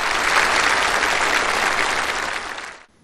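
A large audience at a Macau ceremony marking twenty years since the handover claps warmly in steady, dense applause that fades out over the last half second.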